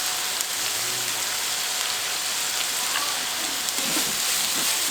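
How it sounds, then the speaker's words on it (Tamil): Chopped onions with rock salt sauté in a hot pan, giving a continuous, even hiss and sizzle like rain, close and steady with faint stirring scrapes and no talk. "வெங்காயம் லைட்டாக வதங்கியிருக்கு"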